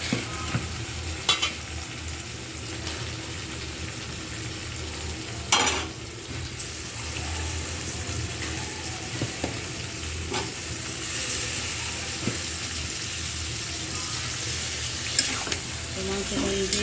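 Meat goes into cooked spice masala and fries with a steady low sizzle while being stirred, with scraping spoon strokes and occasional clinks against the pot; a voice speaks faintly in the background.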